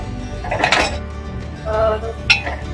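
A spoon stirs red chilli powder into misal in a cooking pot, giving a few scraping, clinking bursts of metal against metal at close range with no talking.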